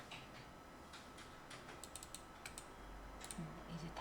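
Keyboard typing during a spreadsheet data-entry session: faint, quick irregular key clicks tapping through a low background hum, with a few sharper clicks clustered near the middle.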